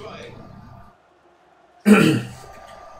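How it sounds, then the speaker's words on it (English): A man clears his throat once, a loud, harsh burst close to the microphone after a short pause following his commentary on FIFA 18. "I had to clear my throat then"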